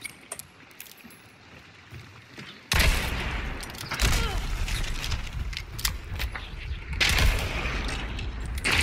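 Shotgun blasts in the game Hunt: Showdown, a couple of loud booming shots breaking a quiet stretch, followed by sharp crackling impacts and further bursts.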